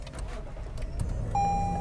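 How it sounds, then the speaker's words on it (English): A 2020 Lexus GX460 SUV starting up with its controls coming on: a low engine rumble and mechanical whirring, then a steady electronic tone rising clearly above it near the end, with no talk. "When you start the car, how the controls and everything actually come on."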